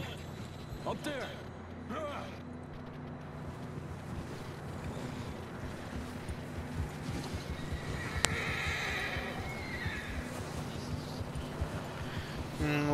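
Horses in the video game Red Dead Redemption 2 whinny and clop their hooves over faint wind and water ambience, distant and low in level, with a sharp snap partway through.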